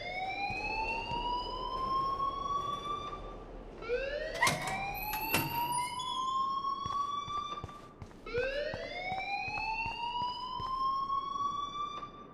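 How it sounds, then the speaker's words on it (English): Electronic alarm in the video game Life is Strange, three rising siren-like whoops sweeping upward in pitch, each about four seconds long, loud and continuous with sharp clicks in between. "please turn off that alarm since that's your job"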